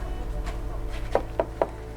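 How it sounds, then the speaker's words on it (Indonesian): Three firm knocks on the wooden door of a house, evenly spaced about a quarter second apart, close and distinct over a quiet room-tone background. "Begitu sampai rumahnya Ibu Nadia, kita ketok pintunya."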